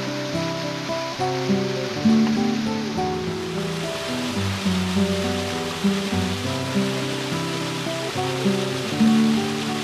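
A small stream babbles along a forest trail in the Réz Mountains, a steady close rush of water with gentle surging swells.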